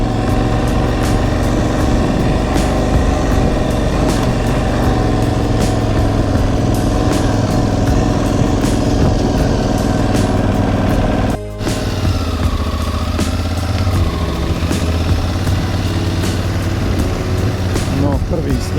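An enduro motorcycle engine runs steadily at close range, a continuous buzzing drone that dips briefly once midway, with a voice talking over it.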